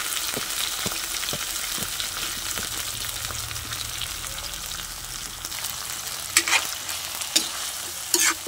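Bitter gourd and corned beef stir-fry steadily in a pan with a continuous sizzle, broken by the scrape of a spatula and several louder clacks near the end, with no voices.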